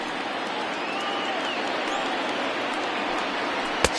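A baseball crowd of over 39,000 roars steadily in MLB The Show 20, Indiana against the Boston Red Sox, with a sustained broadband cheer and a sharp crack near the end.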